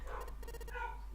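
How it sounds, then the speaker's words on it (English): A dog barks in a quick cluster of faint yaps in the background, over a steady low hum. "I can hear my dog losing it."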